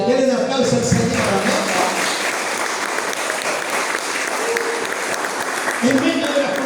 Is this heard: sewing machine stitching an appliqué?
no